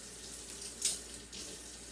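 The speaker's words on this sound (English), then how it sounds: "So I'm going to go over to the sink." A kitchen sink tap runs water in a steady, soft stream, with a brief louder splash partway through as the flow is adjusted or hits something, then settles back to an even, close-by trickle.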